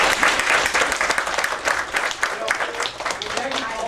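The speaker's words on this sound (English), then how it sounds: "I want to give you a big round of applause for actually doing this" An audience at a college motivational talk applauds, dense clapping filling the room at a steady level, with some voices mixed in.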